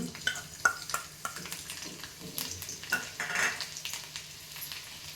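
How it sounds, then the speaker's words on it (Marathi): Garlic hitting hot oil in a kadhai, an irregular crackling sizzle with spatter bursts and light stirring clatter, quiet and close. "आता आपण त्याच्यात लसूण टाकून घेऊ."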